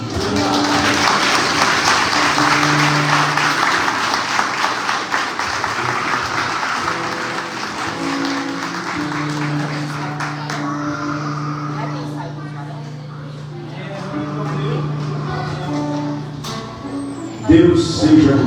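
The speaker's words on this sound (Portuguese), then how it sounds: "Você pode aplaudir mais forte a Deus pela palavra?" A church congregation applauds loudly and steadily in a sustained wash of clapping, with a voice speaking and sustained tones from music carrying over it, fading slightly toward the end.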